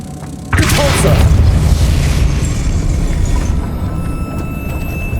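A Repulsor spell in Hogwarts Legacy sets off a sudden loud booming blast that rolls into a long rumbling wash before fading, with a faint background tone.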